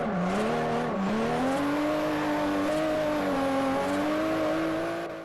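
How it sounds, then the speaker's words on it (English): A Toyota Supra drifts on a mountain road in the video game Forza Horizon, its engine holding a loud, steady high-revving whine that wavers slightly in pitch for several seconds, with tire noise underneath, before cutting off. "You can just take your Supra to the mountain road and drift the strings out of your rear tires."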